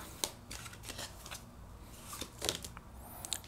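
Queen of the Moon oracle cards are shuffled and drawn by hand, making soft riffling rustles and a few sharp flicks and slaps of card edges, close and quiet with no talk.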